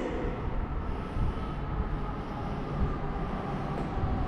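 An N700S Nishi Kyushu Shinkansen Kamome train bound for Hakata arrives at a station platform with a steady, fairly quiet rumbling roar and no voices.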